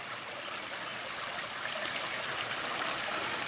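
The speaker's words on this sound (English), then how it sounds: "This is a great water feature here." A backyard water feature at a luxury home backing onto open space, trickling and splashing steadily in a soft, close wash, with faint insect chirps pulsing above it.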